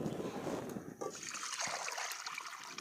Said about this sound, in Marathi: तर कढईत पाणी टाकू